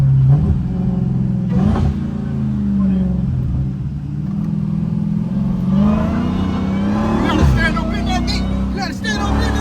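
Dodge Hellcat engine roars and revs under hard acceleration with traction control off, a loud sustained rumble rising in pitch, with voices talking over it.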